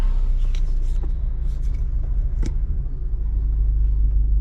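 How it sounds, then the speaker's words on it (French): An Audi A3 (8V) engine runs with a steady, low rumble close by, idling continuously throughout with a few faint clicks and knocks on top and no talking. "Voilà, je démarre la voiture."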